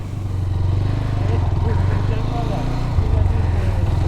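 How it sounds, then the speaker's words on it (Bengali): A GPX Demon GR 250R motorcycle, 250cc, being ridden, its engine a steady low drone with a rough pulsing note, close to the rider and partly masked by someone talking over it. "তাহলে এখন বাইকটা রাইড করি"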